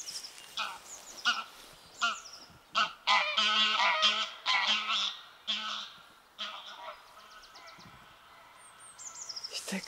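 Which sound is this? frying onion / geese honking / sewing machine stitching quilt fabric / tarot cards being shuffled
geese honking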